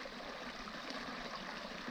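Wet Beaver Creek in Arizona flows and trickles steadily over rocks on a summer morning, a continuous close babbling of a stream with no voices.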